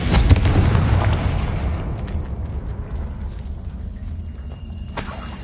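Confringo fire spell explosion in the video game Hogwarts Legacy: a heavy, booming blast with a rumbling low roar that fades gradually over several seconds, with a brief bright crackle near the end.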